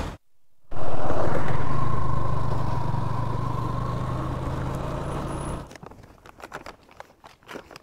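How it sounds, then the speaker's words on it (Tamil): A motorcycle engine that has just been push-started catches and runs with a loud, steady drone for several seconds, then drops to a rough, sputtering idle with clattering. "இப்போ தள்ளி விட்டால் ஸ்டார்ட் ஆகிடுச்சிங்க."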